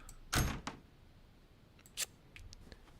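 In a horror video game set at Grandma's house, a door opens with a sharp latch click, followed about two seconds later by another click and a few faint ticks against quiet background hiss.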